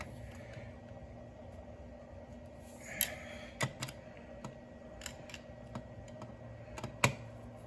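A flat tip screwdriver gives the final tightening to small bolts on a 1973 Mustang 2100 carburetor, making faint, sparse metallic clicks and ticks in an otherwise quiet room.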